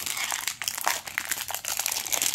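Cardboard and plastic packaging of a Disney Sweet Seams rag doll box crinkle and rustle up close, with steady handling noise running continuously throughout.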